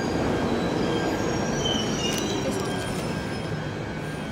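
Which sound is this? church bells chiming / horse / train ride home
train ride home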